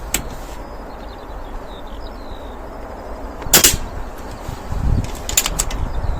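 An air rifle fires weighed pellets outdoors. A few sharp, distinct cracks stand apart over several seconds, with faint birdsong and quiet background ambience in between.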